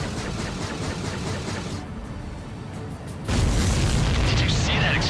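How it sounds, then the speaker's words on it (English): A supply ship explodes in an Ace Combat 7 air-combat mission, a heavy roaring boom swelling up near the end over continuous jet and battle noise, with radio chatter around it. "Did you see that explosion?"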